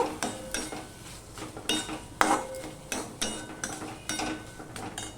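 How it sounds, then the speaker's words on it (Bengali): A spoon scrapes and clinks against a pan while banana flower curry with ghee is stirred, making repeated rhythmic scrapes over a soft sizzle, close and moderately loud. "এবার এখানে আমি এই এক চামচের মতন ঘি দিয়ে দিচ্ছি ঘি দিয়ে আমি নেড়ে চেড়ে নেব"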